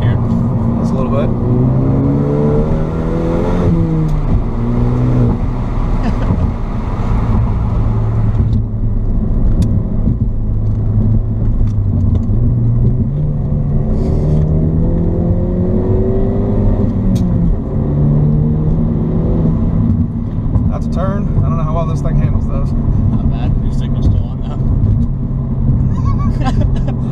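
Ford Focus ST pulling uphill in fourth gear, a steady engine drone rising and falling in pitch as it accelerates, loud and close from inside the cabin while people talk throughout.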